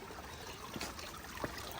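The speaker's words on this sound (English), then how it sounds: "Water coming in right over here." Water trickling over rocks into mossy pools beside a hiking trail in lush green woods, a faint steady burble and dribble with soft splashes, heard close and alone.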